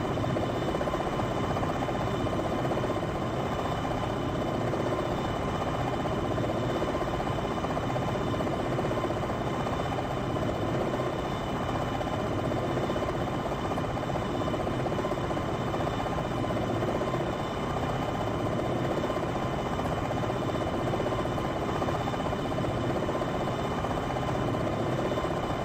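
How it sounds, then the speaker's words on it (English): Steady droning rotor and engine noise of an enemy helicopter in the Jane's Longbow attack-helicopter game, a continuous broadband whir held at constant loudness throughout. "Enemy chopper, you are 9 o'clock."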